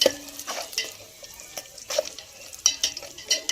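Bombay rava semolina stirred while dry-roasting in a pan until golden, giving soft scraping and rustling strokes with light clinks of the spoon against the pan, close and steady for a few seconds with no talk.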